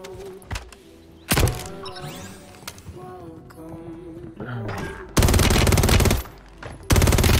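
Gunfire from a video game shooter on Fortune's Keep, with single sharp shots and then longer loud bursts of rapid automatic fire toward the end, with talk in between.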